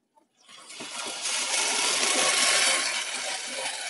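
Cider vinegar pours into a pan of BBQ sauce, a sudden close liquid rush that builds within a second and holds as a steady, fairly loud hiss and splash for several seconds.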